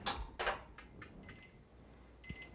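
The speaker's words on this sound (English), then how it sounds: "And there's the timer for our eggs on the stovetop." A kitchen timer for eggs boiling on a stovetop sounds faint, high beeps in a couple of short bursts amid clattering kitchen noise and low room hum.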